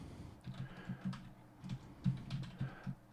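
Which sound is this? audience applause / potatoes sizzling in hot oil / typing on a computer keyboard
typing on a computer keyboard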